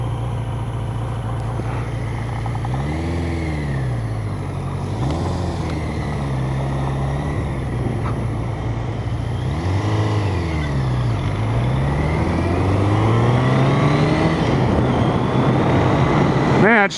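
A 1983 Honda CB650 Nighthawk motorcycle accelerates on the road, its engine note repeatedly climbing and dropping through the gears, then rising hard near the end. Steady wind rush sits underneath the whole time.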